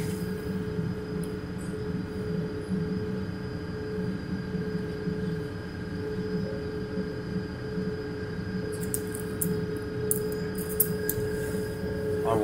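Steady rumble of an S-Bahn commuter train heard from inside the carriage, continuous low running noise with faint high hiss and brief clicks near the end, no talking.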